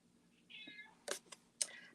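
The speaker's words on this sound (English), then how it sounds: "One of my cats came in." A house cat gives a drawn-out meow at close range, followed by a few short clicks and a second sharper chirp-like call, all in a quiet room with no talking.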